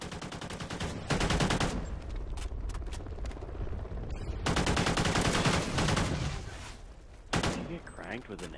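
Heavy AK rifle fire in a shooting game, several loud automatic bursts separated by short gaps, with voices talking over parts of the shooting.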